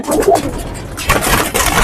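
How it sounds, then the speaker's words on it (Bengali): A brown-necked pigeon coos close by in a loft, a few soft throaty coos repeated over a short moment, fairly loud and clear with no talk. "এই কবুতরটাকে ছাড়লাম খয়রা গলা একটা কবুতর"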